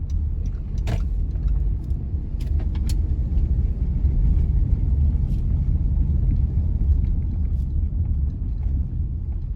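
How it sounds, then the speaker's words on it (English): A car drives along a rough, badly kept road in Havendale, St. Andrew, with a continuous low interior rumble and scattered rattles and knocks from bumps. "Just driving around in Havendale a little."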